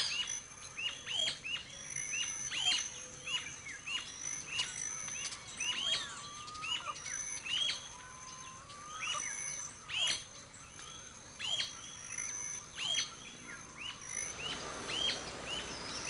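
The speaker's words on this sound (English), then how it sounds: "The rufous-colored sparrow is a small bird with a delightful song" A rufous-colored sparrow in Venezuela sings outdoors, repeated short chirps and thin whistled phrases at moderate distance, with other faint bird calls and rustling behind it.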